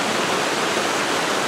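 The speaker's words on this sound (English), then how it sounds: "the water just goes through all these big boulders and then makes it out to the main slippery rock creek out there" Creek water rushing over and around large boulders in a rocky gorge, a steady, dense roar of flowing water that stays loud and constant throughout with no voices.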